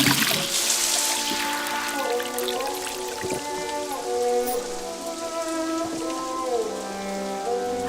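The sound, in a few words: water running from a shower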